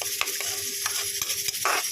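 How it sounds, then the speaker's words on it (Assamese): Fish fries in oil rendered from fish in a home kitchen, a steady close sizzle broken by repeated scraping stirs of a spatula in the pan, with no talking. "মাছৰ তেলে মাছ ভাজি আছোঁ"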